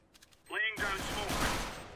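Gunfire in the video game CS:GO bursts in suddenly after a short rising electronic tone, a dense, rapid rattle of shots with echoing tail filling the rest of the moment at moderate level.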